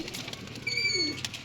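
Rooftop pigeons coo softly in short, low throaty phrases, with a faint chirp of another bird above, heard at moderate distance without talk.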